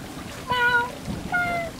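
A cat meowing in the video game Stray: two short, faint tonal meows in quick succession over a soft ambient background.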